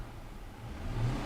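A misfiring Audi engine idles and begins to rise in a brief rev, a low steady rumble swelling slightly toward the end, with no talk.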